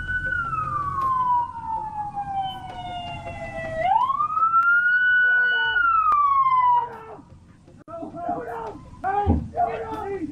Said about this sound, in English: they could hear the sound of the police siren.